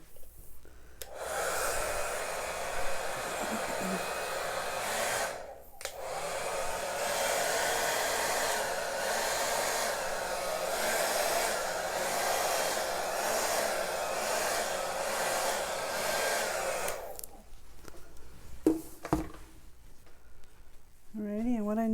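A hair dryer blows acrylic pour paint with turquoise, green and water across a beach-and-ocean canvas, a loud steady airy roar running about 16 seconds with a brief cut near five seconds, then a few softer bursts and a faint voice at the end.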